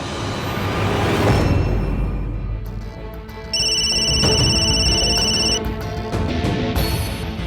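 A telephone rings unanswered in repeated electronic ringtone bursts, loud and close, with a steady background hum and no voices.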